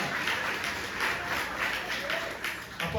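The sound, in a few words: congregation applauding in church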